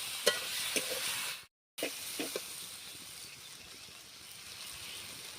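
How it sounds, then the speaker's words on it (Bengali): Seeded banana frying lightly with ginger in a pan, a soft hiss with a few scraping stirs, briefly cut to silence before the quiet sizzle resumes, no talking. "ওর মধ্যে দিয়ে দিচ্ছি বিটা কলা ভালোভাবে কষাতে থাকবো"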